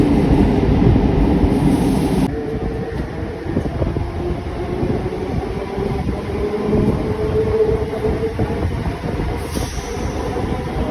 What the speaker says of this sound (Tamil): அடுத்து நம்மளோட ட்ரெயின் வந்து தரமணிக்குள்ளே என்ட்ராக போகுது